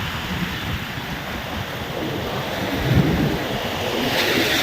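Steady broadband wash of sea waves and surf, constant and fairly loud, with wind buffeting the microphone throughout; no voices.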